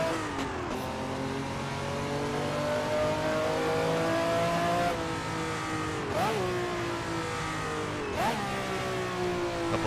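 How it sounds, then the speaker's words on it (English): A Ferrari 312/67 V12 racing car in Assetto Corsa holds a steady, loud engine drone, then gives a few sharp blips of the throttle with quick revs rising and falling. "Couple last little barks out of the V12 because I can't resist."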